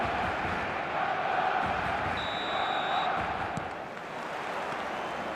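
Stadium crowd in an eFootball match between Barcelona and another side, a dense, steady roar of massed voices and chanting that holds loud throughout, with a faint whistle-like tone briefly rising above it.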